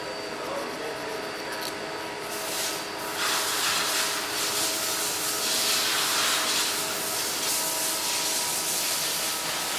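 Sandpaper rubbing steadily against the edges of a Brauner microphone body to remove sharpness, a continuous close abrasive hiss that swells slightly midway and carries on without pause.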